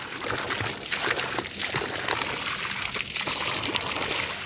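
Continuous close splashing and sloshing of water, irregular and fairly loud, with no voices.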